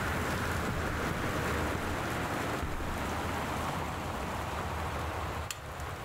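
Steady, dense patter of in-game rain falling over a low rumbling background in Gone Home, continuous throughout with no voices.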